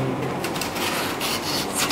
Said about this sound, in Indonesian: Kita menggunakan amplas dan kita mengamplasnya menggunakan satu arah